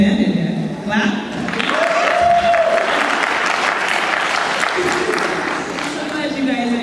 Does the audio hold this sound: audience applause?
yes